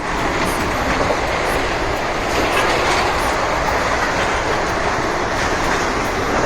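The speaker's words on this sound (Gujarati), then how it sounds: "હવે ફાસ્ટ ટ્રેન હાલવા માંડી છે" A fast-moving train rumbles steadily and loudly throughout, with continuous broadband roar and faint clickety-clack of wheels on rails, heard from inside or close to a carriage as it speeds along.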